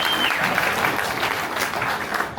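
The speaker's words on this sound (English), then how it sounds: "let's give a round of applause for everybody else that was here so" Steady applause from an audience at a reseller meetup in Frederick, Maryland, a dense wash of clapping that holds evenly throughout.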